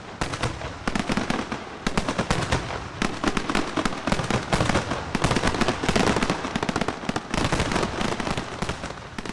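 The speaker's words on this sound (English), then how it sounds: "Well, that is beautiful with the fireworks behind the sign like that." Fireworks bursting in rapid succession at a Lamborghini 40th anniversary celebration, a loud, dense barrage of overlapping bangs and crackles that keeps going without a break and with no talk over it.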